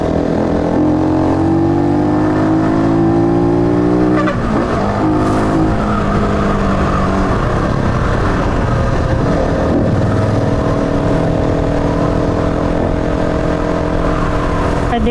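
A Rusi Flash 150X motorcycle on a road test toward a forest area, its engine revving loud and close in rising and falling sweeps, throttle blips swelling and dropping continuously with wind and road noise underneath.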